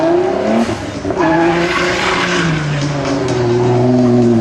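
A Nissan sedan drift car at a Desoto drift qualifier slides sideways and spins with a loud, continuous tire squeal over a high-revving engine, close and sustained for several seconds.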